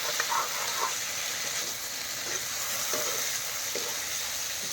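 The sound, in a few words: chicken meat dry frying in a pan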